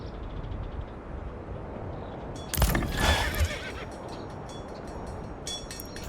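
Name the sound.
horses neighing in the video game Manor Lords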